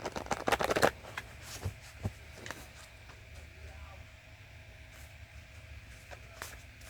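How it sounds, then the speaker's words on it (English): Tarot cards are shuffled in a quick burst of crisp riffling and flicking up front, followed by softer scattered card taps and handling under a faint hum. "And now I'm about to shuffle again to get the second set of clarifiers."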